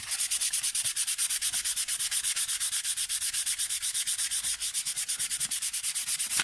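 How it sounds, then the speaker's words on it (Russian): Wood trim from a car interior being hand-sanded with sandpaper, a steady rapid back-and-forth rasping in even strokes, close and loud, with no voices. "Примерно, чтобы у нас получалась вот такая вот поверхность, как вот здесь. Вот здесь, вот здесь. До такого состояния шкурим."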